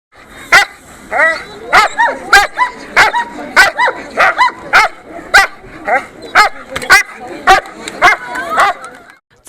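A large Caucasian Shepherd dog barks repeatedly up close at a dog show, loud deep barks in an uneven rhythm with short whines between them.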